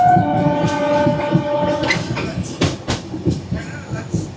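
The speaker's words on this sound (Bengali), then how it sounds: "ট্রেন ঢুকেছে, আমি নেমেছি, ট্রেন ছেড়ে দিয়েছে" Puri–Howrah Shatabdi Express pulling away from Jajpur Keonjhar Road station after a two-minute halt, a steady loud rumble with horn-like tones early on and rhythmic wheel clatter building as it gathers speed, with brief voices nearby.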